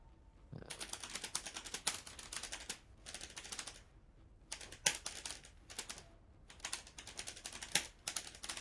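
Computer keyboard typing comes in quick bursts of crisp clicking keystrokes separated by short pauses, close and fairly quiet with no talk.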